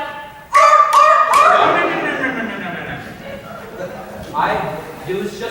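A person imitates a Northern Elephant Seal call with a few loud, harsh, throaty voiced bursts close up, followed by quieter vocal noises and chatter.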